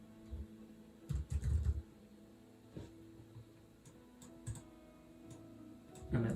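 Soft keystroke clicks on a computer keyboard while text is typed into a Keynote slide, arriving in short irregular bursts with pauses between them, close and fairly quiet with no speech.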